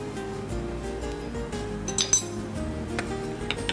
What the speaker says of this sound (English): now I'm just going to stir it well